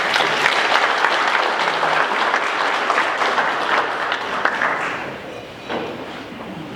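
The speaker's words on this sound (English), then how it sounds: "Give yourself a round of applause." A crowd at a Rotary Club anniversary program applauds continuously, a dense, steady wash of clapping that stays loud throughout and thins slightly near the end.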